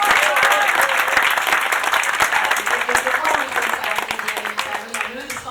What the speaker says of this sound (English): Can I have a clap for him?